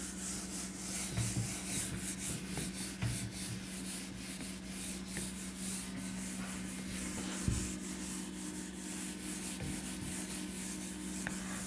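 Steady, soft scratchy rubbing at close range as writing is wiped off a classroom board, continuing for several seconds with a few small knocks and no talking.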